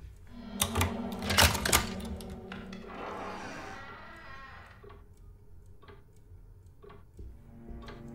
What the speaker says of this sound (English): I'm touching your typewriter!